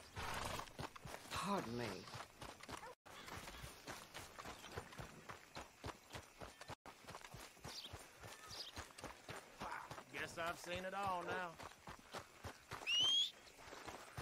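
Hooves clip-clop and a horse whinnies in the open-world game Red Dead Redemption II, the footfalls rhythmic and fairly close, set among game voices and ambient sound, with a sharp whistle near the end.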